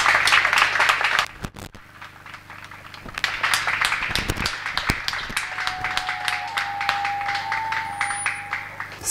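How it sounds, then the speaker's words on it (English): An audience applauds after a conference talk on cycling and Ukraine, with steady overlapping claps at moderate distance that thin out and taper off, and faint tones sounding near the end. "There was clapping, probably you hear"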